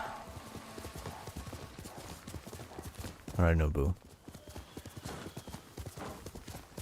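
Steady clip-clop of a horse galloping through Ghost of Tsushima: Director's Cut, hooves pounding evenly throughout, briefly overlaid by a short spoken line and a burst of game music-like tone mid-way.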